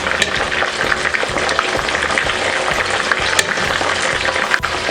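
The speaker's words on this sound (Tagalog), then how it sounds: "Ngayon po ay babaliktarin na po natin itong ating crispy crabs" Crispy crabs (kasag) frying in hot oil, a loud dense continuous sizzle and crackle with faint scrapes as they are flipped in the pan, no talk.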